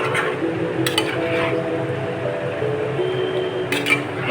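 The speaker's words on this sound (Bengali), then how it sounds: "একটু ভালো করে নাড়াচাড়া করব।" A pot of spiced chicken with hot water is being stirred in a home kitchen, giving a steady close run of metal scrapes and soft clinks against the pan, with a few sharper knocks, no talking.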